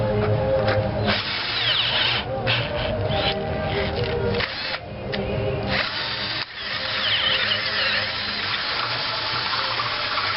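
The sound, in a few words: drill boring a larger hole for a tie rod end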